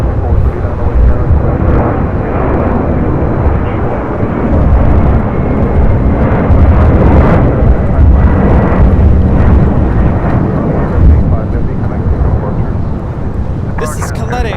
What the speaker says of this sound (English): This is Caleta Air 785 taking off to Miami on a 747-400 freighter